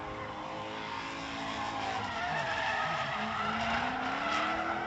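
Tires skid and squeal at length as a drift car holds a deep, wide slide at a professional drifting competition, the rising wail mixed with engine roar, fairly distant and continuous with no speech.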